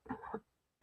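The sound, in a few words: coughing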